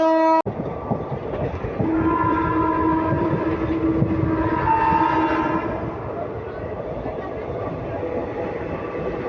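The Gujarat Superfast Express, train 22954 from Ahmedabad to Mumbai Central, sounds its horn as it departs, one loud sustained blast over the rumble and clatter of the moving coaches, with a voice faintly in the background.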